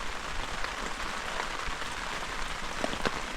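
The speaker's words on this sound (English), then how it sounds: "You could probably hear the rain." Steady rain patters on a surface at a Boundary Waters lakeside camp, a dense close hiss of drops with a few sharper individual drips, no voices.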